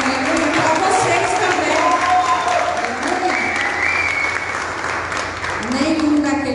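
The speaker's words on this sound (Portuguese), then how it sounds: "Essa é a salva de palmas para todo aquele que crê em Jesus." Church congregation applauding together, a steady dense wash of clapping that holds loud and even throughout, with faint voices rising within the crowd.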